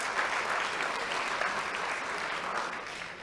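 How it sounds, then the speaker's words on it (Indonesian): Dense, steady applause fills the hall at an open senate ceremony of a theological college in Jayapura, continuing for about three seconds and easing slightly at the end. "Tepuk tangan untuk STFT."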